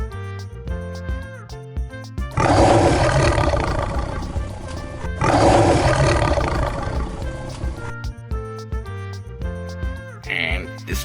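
A lion gives two long, loud, rough roars back to back, each lasting a few seconds, set between stretches of bouncy background music.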